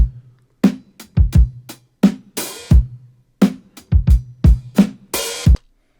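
A punchy boom bap drum break loops twice: deep kicks, snappy snares and open hi-hat splashes in a steady hip-hop groove, loud and dry.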